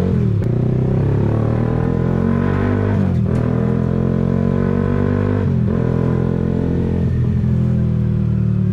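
A Suzuki Raider 150 fuel-injected motorcycle engine bored to 195cc revs loudly and continuously up close, its pitch rising and falling through several throttle blips.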